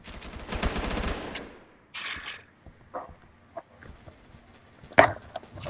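Rifle shots from the Phantom Forces video game: a loud burst of rapid gunfire, then several separate sharp cracks and softer reports spaced over the following seconds.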